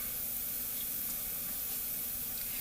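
Large naan bread frying in oil in a skillet makes a steady, close hiss and sizzle, constant and unbroken, with no voices.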